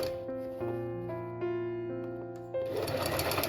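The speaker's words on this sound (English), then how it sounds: "This is how I sew the lace on." A sewing machine runs continuously while straight-stitching lace onto the wrong side of pleated skirt fabric close to the edge. The whirring motor hum stays steady and close, rising slightly in the last second, with tonal background sound beneath it.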